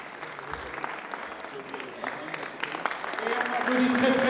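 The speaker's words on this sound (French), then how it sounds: "Et on applaudit très très fort le public," An audience at an international tourism forum in Meknes claps, thin and scattered at first, then swelling into louder, denser applause as voices chatter underneath.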